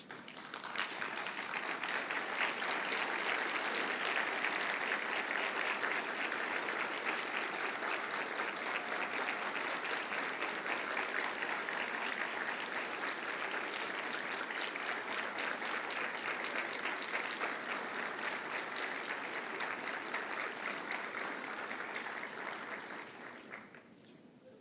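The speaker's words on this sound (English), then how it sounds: "deliver an applause of appreciation expressing your sincere gratitude to all of these people" Long sustained applause from a college commencement audience, dense even clapping from a large crowd that holds steady for over twenty seconds before tapering off at the end.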